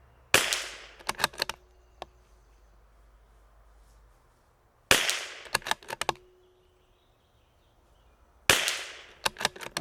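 A CZ 457 rifle fires three single sharp shots at a bench target, each a loud close crack followed by a quick rattle of echoes and handling, spaced about four seconds apart.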